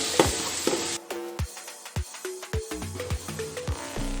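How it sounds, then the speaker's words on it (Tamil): Ginger garlic paste and onions sauté in a pan for chicken 65 biryani, with a loud hiss at the start, then a series of sharp rhythmic knocks as a spoon strikes the pan over a softer sizzle. "பூண்டு பேஸ்ட்டு நல்லா அந்த பச்சை வாசம் போகிற அளவுக்கு நல்லா வதக்கணும். வெங்காயத்தை சேர்த்து நல்லா வதக்கணும்."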